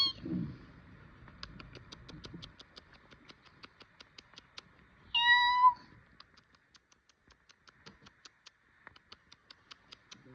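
A cat gives one short, clear meow partway through in a quiet indoor room, with faint regular ticking and a little rustling near the start.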